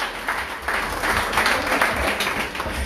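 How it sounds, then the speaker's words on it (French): An audience claps at a book presentation, a soft, steady patter of applause from a small gathering that swells slightly in the middle and carries on evenly, with no voices over it. "Voilà Jeanne, vous pouvez l'applaudir."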